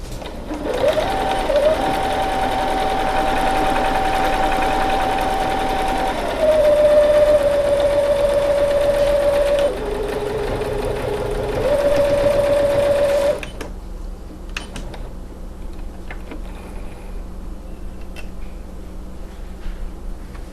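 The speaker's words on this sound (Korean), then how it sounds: "원단의 끝부분을 4분의 1인치 노루발 가이드 선에 맞추어 놓고 직선 박음질을 하여 줍니다." Lion The Style 50 home sewing machine straight stitching fabric with a quarter-inch patchwork foot, a steady close whirring hum running for about thirteen seconds with slight speed shifts, then stopping to leave faint clicks.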